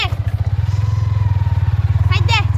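A motorcycle engine thumps steadily in a fast, throbbing rhythm as it rides along close by, with voices breaking in briefly near the end.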